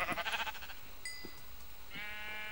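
Sheep bleating in the video game Minecraft, a short close bleat followed by a second drawn-out bleat, over background game sounds with no talk.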